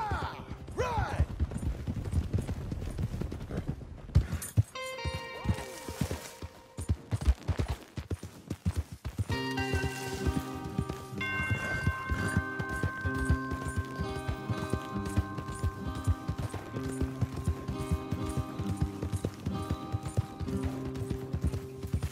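Horse hooves clip-clop at a steady trot in the Red Dead Redemption 2 video game, rhythmic and close. A burst of sharper noises breaks in early on, then a dense layer of music and ambience continues over the hoofbeats.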